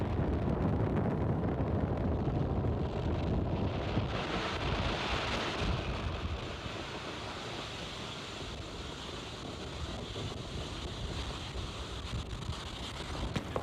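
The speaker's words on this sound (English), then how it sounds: "Falcon 9 has successfully lifted off from Slick 4E at Vandenberg, carrying the 20 Eutelsat OneWeb satellites" A SpaceX Falcon 9 rocket climbs after liftoff from SLC-4E at Vandenberg carrying OneWeb satellites, a loud, distant broadband roar and rumble that stays steady, then eases slightly as the rocket rises.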